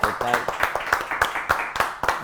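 A studio audience on a television talk show claps in a quick, regular rhythm of about eight sharp beats, close and fairly loud, with a voice speaking over the start.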